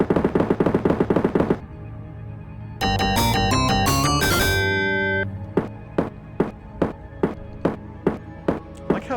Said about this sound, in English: They shoot at her every time.